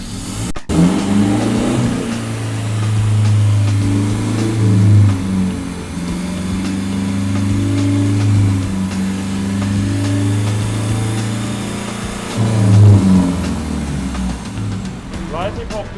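Car engine fitted with an aftermarket exhaust pipe revs in repeated loud, deep bursts between idle stretches, close by, with people talking over it.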